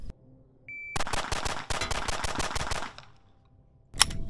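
A Glock 43X pistol fired in fast strings for split times, loaded from Shield magazines: a burst of sharp, closely spaced gunshots rattles for about two seconds, a pause follows, then one last loud shot rings out near the end.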